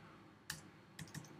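A few faint, quick keystrokes on a computer keyboard click in a small cluster against quiet background hiss.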